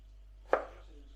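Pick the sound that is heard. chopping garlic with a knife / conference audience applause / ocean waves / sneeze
chopping garlic with a knife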